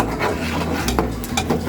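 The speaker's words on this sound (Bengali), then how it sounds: "দেখুন এই চামচ দিয়ে নাড়বো" Spoon stirring beaten egg into a pot of chicken vegetable soup, a close, soft scraping and rubbing with a few brighter clinks against the pot, steady over a low background.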